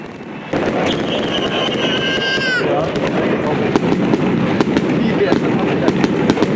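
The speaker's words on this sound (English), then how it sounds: "the winter fireworks began over the Cedar River" Winter fireworks over the Cedar River at a downtown holiday show, a loud continuous crackle of bursts and pops with a rising whistle early on, close and dense throughout.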